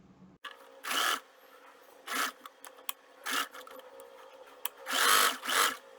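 A sewing machine stitches a false collar in short separate runs, several quick bursts of close mechanical whirring with quiet pauses between them.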